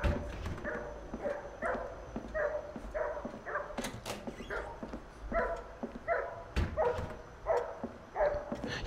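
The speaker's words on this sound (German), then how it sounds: "der Hund bellt ja schon die ganze Zeit." A dog in the horror video game The Nightfall barks steadily, short repeated barks at an even pace for the whole stretch, at moderate distance, with no talk over it.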